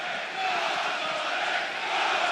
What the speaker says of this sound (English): it's a huge cheer.